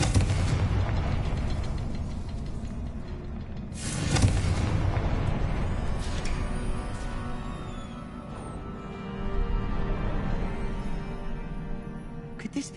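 Fiery Confringo spell blasts in the Hogwarts Legacy video game, a dense roar of booming explosions with sharp bursts near 4 and 9 seconds, loud and continuous over a rumbling battle backdrop.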